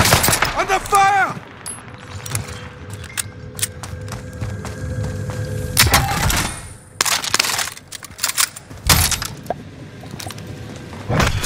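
Gunfire in Call of Duty: Modern Warfare, with sharp shots in scattered bursts and short rattling volleys, some close and loud, others further off, over game ambience and stretches of voice.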